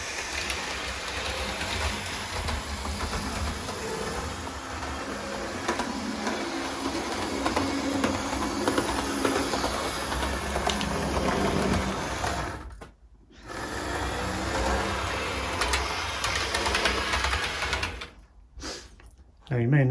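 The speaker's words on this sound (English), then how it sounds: "have two trains running at the same time." DCC-controlled model trains run around a new model railway layout, a continuous close mechanical whir and rattle of motors and wheels on track that drops out briefly near the end, with talk over parts of it.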